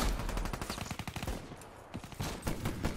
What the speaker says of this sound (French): c'est un super fusil à pompe. Hyper puissant.